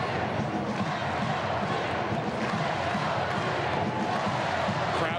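A basketball arena crowd roars continuously for Georgia Tech during the 2005 ACC tournament final against Duke, a dense wall of cheering with voices mixed in.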